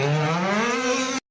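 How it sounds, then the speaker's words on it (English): A rally car's engine holds a steady, loud, sustained drone through a turn, the note rising slightly in pitch as the throttle comes on, then stops abruptly. "Listen for the throttle."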